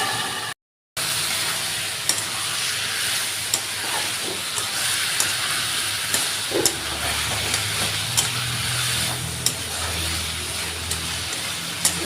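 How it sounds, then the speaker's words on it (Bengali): Fish kanjal is sautéed with spices in a pan, giving a loud, steady sizzling hiss with occasional stirring scrapes and a brief dropout near the start. "ভালো করে কষিয়ে নিব মশলার সাথে কাঞ্জালটা"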